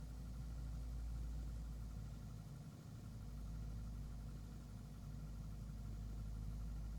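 A Diamond DA40 aircraft engine in Microsoft Flight Simulator 2024 hums steadily near 1600 RPM, a constant low drone with a faint dip partway through and no talking.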